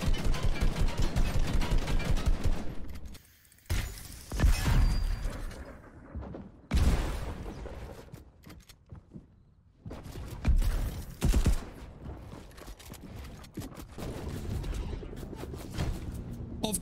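Fortnite gunfire rings out in sharp, loud bursts of rapid shots, separated by brief pauses and quieter stretches of game ambience.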